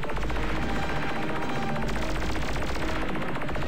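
Rapid, continuous weapon fire from torpedoes, missiles and rockets in the video game Ultimate Crab Battle, a dense stream of loud shots and blasts running without pause for the whole stretch.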